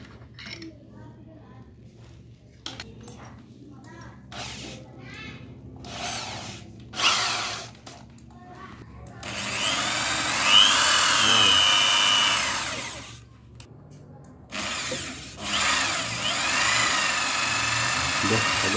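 A power drill fitted with bits from a Bosch X33 drill bit set, with short whirring bursts early on followed by longer sustained high-pitched drilling runs, close and fairly loud.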